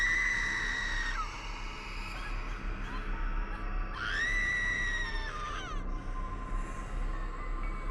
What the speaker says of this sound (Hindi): एक रात वो चीखती हुई उठी।